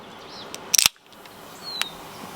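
A chilled can of peach beer brewed with German floral hops is cracked open with a short, sharp snap and pop, followed by a brief fizzing hiss, close and quiet outdoors with a faint chirp nearby.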